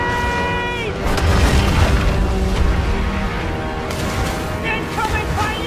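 Cannon fire in a pirate ship battle in an open-world video game, heavy booms and rumbling blasts over sea ambience and music, with a voice calling out over the action.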